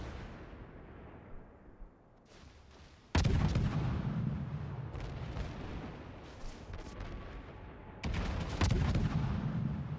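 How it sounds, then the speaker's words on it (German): Naval gunfire from warships in the video game World of Warships: a low rumbling battle backdrop broken by two heavy, booming salvos a few seconds apart, each sharp at onset and rolling off, moderately loud. "So, jeder schießt und aus dem Hinterhalt auch die Hindenburg."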